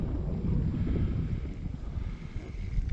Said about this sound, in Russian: поднялся ветер, начал моросить дождь